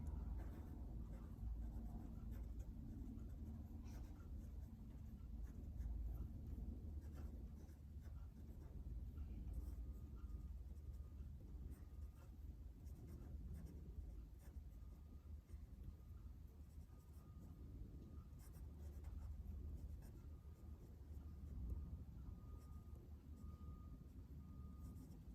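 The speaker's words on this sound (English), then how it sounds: "let's write this in ink" A pen writes in ink on a scrapbook layout, giving a faint, continuous scratchy scribble with small irregular strokes against a low background hum.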